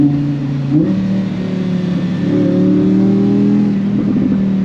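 Audi R8 V10 Performance Spyder engine roaring loudly and steadily from close by, with smooth, soft gear shifts marked by brief dips and rises in pitch.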